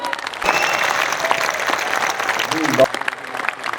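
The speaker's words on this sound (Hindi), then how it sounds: "एक बार पूरा सदन तालियां बजाए।" An audience at a Hindi kavi sammelan poetry gathering in Udaipur claps steadily and fairly loudly throughout, a dense sustained round of applause with a voice briefly rising over it near the end.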